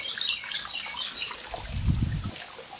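A small garden water feature in a fish pond runs with a continuous light trickle and splash, and a soft low gurgle swells briefly toward the end.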